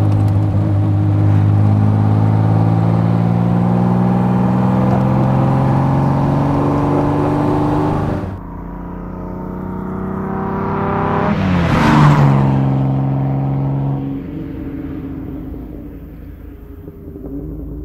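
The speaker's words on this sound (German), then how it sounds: "Ja, das war jetzt unsere Probefahrt mit unserem originalen und ganz echten BMW 328." A 1938 BMW 328 Roadster's engine runs loud and steady under way, its rumble easing off at about eight seconds, then swelling in a brief rev that peaks and fades back to a lower idle-like drone.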